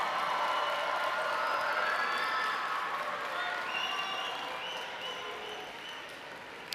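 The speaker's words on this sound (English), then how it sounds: "give them a round of applause for their continued support and encouragement during your journey" A large audience at a university commencement ceremony applauds steadily, with scattered cheers mixed in, the clapping slowly tapering off toward the end.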